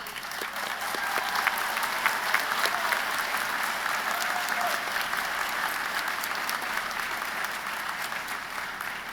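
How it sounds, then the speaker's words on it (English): Graduates at a university commencement giving a long round of applause, steady dense clapping from a large crowd that holds evenly from start to finish. "I think we need to give ourselves a round of applause for everything we have achieved."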